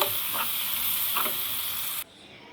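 Garlic red chutney, just dosed with lemon juice, is stirred in a pan with the heat off: a steady hissing sizzle with two soft scraping strokes, cutting off abruptly after two seconds.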